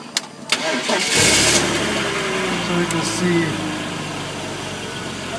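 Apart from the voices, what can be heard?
car engine starting after dead battery rescue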